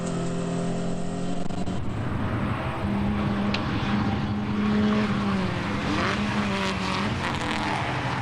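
BMW E30 race cars, a 4-cylinder 318 leading a 6-cylinder 320, circulate at Taupo, their engines droning and shifting pitch as they pass among other cars, a continuous, fairly loud mechanical roar with no talk.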